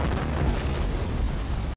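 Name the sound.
explosion sound effect in a drama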